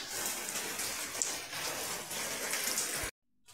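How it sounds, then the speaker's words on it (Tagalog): Steady heavy rain pours down in a dense, continuous hiss on a street, loud and unbroken for about three seconds before cutting out abruptly. "Kaya tuloy-tuloy ang ulan."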